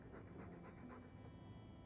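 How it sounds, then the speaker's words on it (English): A dog pants steadily in the video game Dragon Age 2, a quiet, rhythmic stream of breathy huffs with no talk over it. "All that noisy dog breath,"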